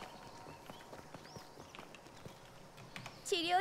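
A horse's hooves clip-clop in a steady walking rhythm in the video game Hunter's Arena: Legends, soft and close, with a brief voice near the end.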